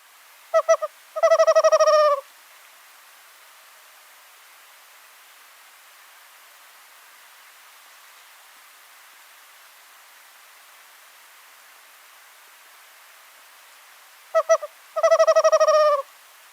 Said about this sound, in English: let's listen to a western screech owl